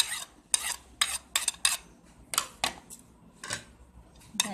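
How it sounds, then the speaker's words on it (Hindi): Coarsely mashed boiled potato is mixed with carrot and other vegetables in a bowl, making a run of short, uneven scraping and clinking strokes, close and fairly loud, with brief quiet gaps between them. "तमाम सामान को हम मिक्स करेंगे।"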